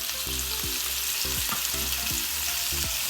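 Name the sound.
shrimp frying in olive oil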